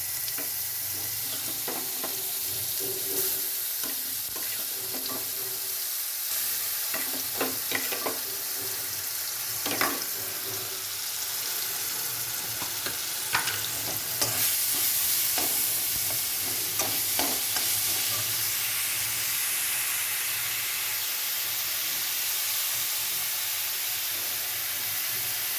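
Onion and garlic paste sizzles loudly in a hot pan, a dense continuous hiss broken by scattered scraping and stirring knocks.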